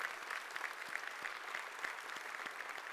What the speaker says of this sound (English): let's give a warm, huge round of applause to all our customers